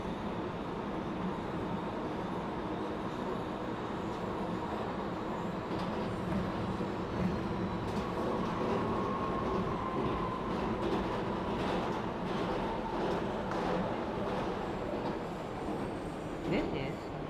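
A simulated R211A subway D train runs in a video game, giving a continuous rumbling rail roar with faint wheel squeal and clicking from the track, steady and fairly close.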